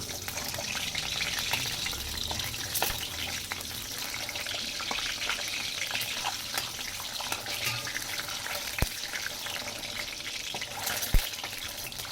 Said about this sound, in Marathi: आता मी तेलामध्ये अंडी परतून घेणार आहे